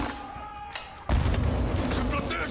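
Heavy blast from a grenade launcher in Call of Duty: Modern Warfare 2 (2022), firing in campaign combat: a sudden loud boom at about one second that rolls into sustained rumbling noise, with quieter game sound before it.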